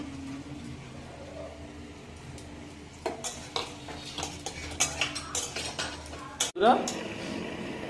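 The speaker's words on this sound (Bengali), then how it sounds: "আলুর দম কষানো হচ্ছে।" Potatoes for aloo dum being sautéed in a pot, with a spoon scraping and clinking against the metal in a quick irregular rhythm over a steady kitchen background hum, then a louder clatter near the end.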